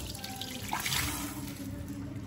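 Water runs from a pipe fed by a well at low pressure, a faint, uneven gurgling trickle with a soft splash, heard alone outdoors.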